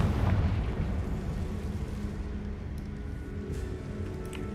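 A Confringo blasting spell in a Harry Potter video game, a loud low explosive boom at the start that rolls into a fading rumble over a few seconds, with no talk.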